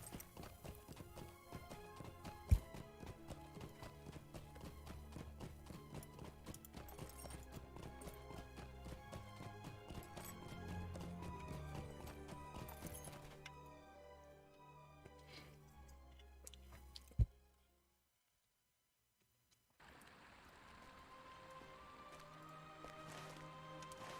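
Elk mount hoofbeats in Lord of the Rings Online, a steady rapid clip-clop of hooves under game music, with a louder thump, a brief silent break, then the music resuming.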